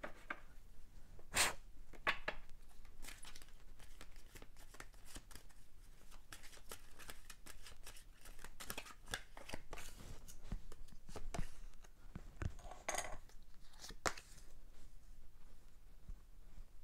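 Tarot cards being shuffled by hand for a reading, close and quiet, with irregular soft riffles, slaps and card flicks repeating throughout.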